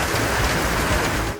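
Heavy downpour after a hailstorm, a dense steady roar of rain hitting surfaces, loud and continuous with no voices, cutting off abruptly at the very end.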